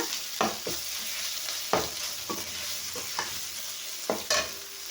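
Ginger garlic paste sautés in a pan for Chettinad chicken, a close sizzle punctuated by repeated sharp spatula scrapes and knocks at an uneven rhythm, with no voices.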